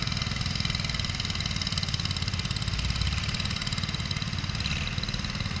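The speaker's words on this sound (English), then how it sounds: "Next is Larry on his Perrin little garden tractor." Rare Perrin garden tractor, one of only eight ever built, runs at a steady idle at a show parade, its small engine giving a continuous even chug with rapid low firing pulses throughout.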